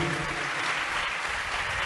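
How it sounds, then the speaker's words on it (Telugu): A congregation at a church service bursts into loud, dense applause for the Lord, a continuous wash of many hands clapping together. "గట్టిగా చప్పట్లు కొడదాం ప్రభుకి"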